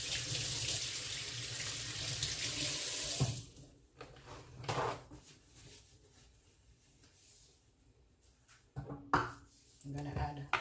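Tap water runs steadily into a sink as plantains are rinsed for a fruit cake, loud and continuous at first, then cut to quieter splashes and clatter with brief pauses.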